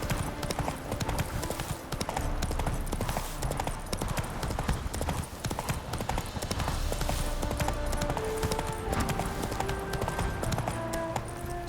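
In The Witcher 3, the horse Roach gallops with rapid, continuous clip-clopping hooves that stay close and steady from start to finish over a busy game background.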